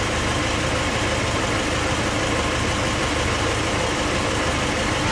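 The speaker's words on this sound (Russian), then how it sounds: "Машина заведена, услышали, как работает помпа" A car engine idles steadily right after starting, a continuous broadband rumble with no breaks, while a gas analyzer checks for a suspected head gasket or cylinder head crack fault.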